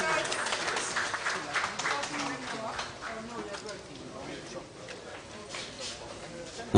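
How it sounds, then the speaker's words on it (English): Audience applause at the official launch of a plastics initiative in Nigeria, steady and broadband from a gathered crowd, with some voices mixed in throughout. "a round of applause,"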